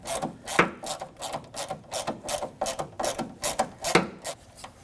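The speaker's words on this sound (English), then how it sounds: "We're going to start off by removing our bottom screw. These are both T25 Torx screws." Ratchet clicking as it backs out a T25 Torx tail light screw on a 2014-2023 Ford Transit Connect, a close series of quick rasping clicks in uneven bursts, with no voices.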